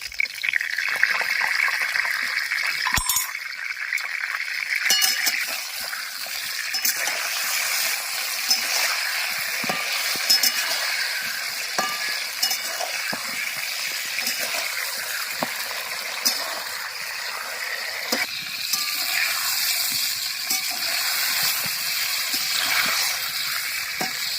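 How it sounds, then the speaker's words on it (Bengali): Eggplant slices fry in hot oil in a pan, a steady, close, bright sizzle that hisses on without pause, with a sharp crackle near the start. "তেলের উপরে বেগুন ছেড়ে দেব"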